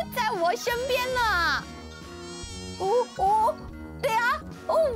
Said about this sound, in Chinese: 蚊子为什么又在我身边呢？